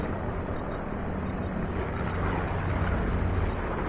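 A plane roars overhead in Call of Duty Blackout, a dense, steady engine rumble filling the whole stretch at constant loudness with no voices.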